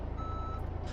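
In Euro Truck Simulator 2, a truck's reversing alarm beeps steadily while it backs up, with a continuous low engine rumble underneath and no talking.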